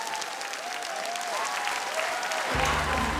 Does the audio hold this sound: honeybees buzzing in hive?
no